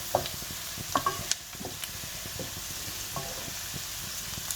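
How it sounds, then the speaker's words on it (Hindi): Onions sauté over medium heat with a soft, even sizzle, joined by a handful of faint scrapes and taps of a stirring spoon, fairly quiet and without talk. "ये देखें तकरीबन 6 से 7 मिनट हुए हैं हमें अनियन रखे हुए।"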